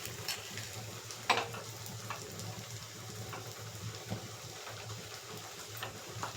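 Cashew nuts fry in oil on a stove, a soft steady sizzle with faint crackles and one sharp tick of a utensil, quiet and close.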